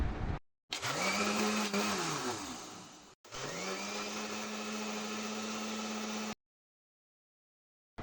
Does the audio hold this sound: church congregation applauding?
no